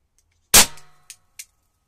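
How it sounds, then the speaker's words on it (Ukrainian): A single loud, close gunshot from a 9mm cartridge reloaded with black hunting powder, a sharp crack with a short ringing tail followed by two faint metallic clicks. "Вистріл."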